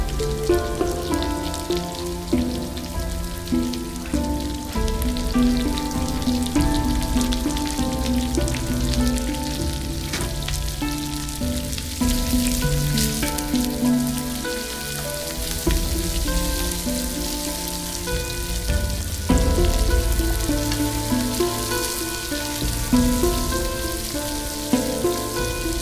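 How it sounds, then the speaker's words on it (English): Chopped onion and curry leaves frying in hot oil for brinjal thokku, a steady crackling sizzle like rain on a surface that runs unbroken at close range, with faint background music underneath. "Then add 1 chopped onion and cook till translucent."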